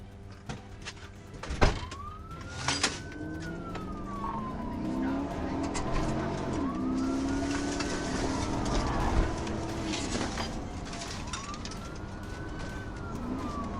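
A highway patrol car's siren wails in long rising and falling sweeps during a high-speed chase, over steady traffic and engine noise, with a couple of sharp thuds early on.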